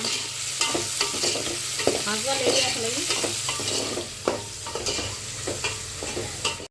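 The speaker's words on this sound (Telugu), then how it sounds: "ఇవైతే ఈ విధంగా బాగా ఫ్రై చేసేసుకున్నా కదా" Mutton pieces fry in a pan with a dense, close sizzle and crackle, broken by scraping stirs and occasional sharper spatula knocks, with no talk.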